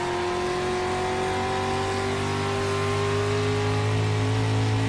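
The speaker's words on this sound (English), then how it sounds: "Listen to that engine scream." A street stock race car engine in the iRacing sim revs hard and steady, a loud continuous mechanical scream with a slowly rising pitch and no voices.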